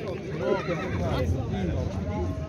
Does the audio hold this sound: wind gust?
no